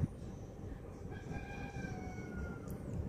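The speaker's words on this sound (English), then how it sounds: "Did y'all hear that friggin' rooster?" A rooster crows somewhere in the distance, its drawn-out call rising over steady low background rumble.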